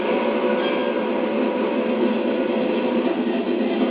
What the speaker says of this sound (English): We're going to see can we get this train underway